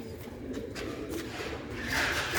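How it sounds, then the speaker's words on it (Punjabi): Soft cooing of Sialkoti pigeons close by, low and throaty, over a steady hissing background with a few light rustles. "ਇਹ ਨੇ ਸਿਆਲਕੋਟੀ ਮੋਤੀਆਂ ਵਾਲੇ ਕਬੂਤਰ"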